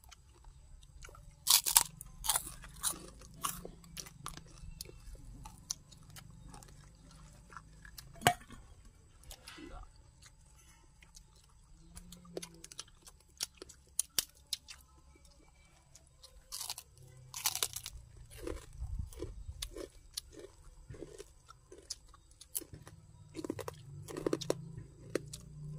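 Crunchy chewing of pork rinds with pounded sour eggplant, close and crisp, in irregular bursts of bites and mashing with occasional soft mouth sounds and brief talk.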